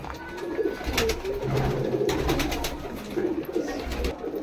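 Madrasi pigeons coo in a low, steady murmur of repeated calls, close by and continuous throughout, with no talk over them.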